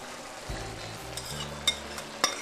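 Mushrooms frying in a pan over medium-high heat: a steady low sizzle with a few sharp clinks and knocks from the utensil, close and fairly quiet, with a soft tonal hum running underneath.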